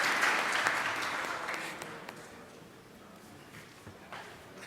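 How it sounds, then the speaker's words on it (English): Applause from a forum audience at a regional social security conference session, strongest at the start and thinning into scattered claps and faint room noise. "A good round of applause for the moderator also."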